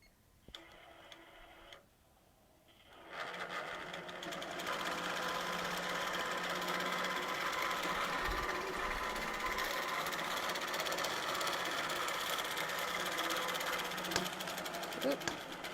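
A longarm quilting machine stitches with variegated thread, a steady mechanical whir and rapid ticking that starts after a quiet pause of about three seconds and then runs loudly and continuously, with faint speech early on.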